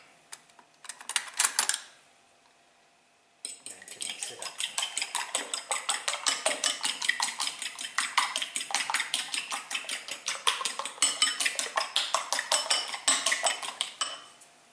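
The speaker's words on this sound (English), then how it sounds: "There we go, 2 eggs. And we're gonna just mix it up." Two eggs beaten in a bowl, a long, fast and steady run of clicking whisk or fork strokes against the bowl after a short opening burst and pause, close and fairly loud with no talking.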